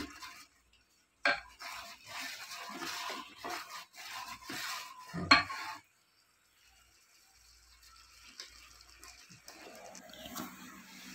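A blended paste of onion, chili and spices for a thick mamak mutton curry is sautéed in a pot, with scraping and stirring bursts against the metal, then a quieter stretch and faint sizzling returning near the end.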